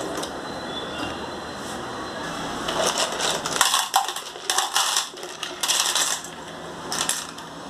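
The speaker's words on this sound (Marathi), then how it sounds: "या शिंपल्या पहिल्या पाण्यामध्ये धुवून घ्या" Clams clatter and rattle against each other as they are washed in water, with a steady wet background and bursts of clicking shell sounds growing busier toward the end.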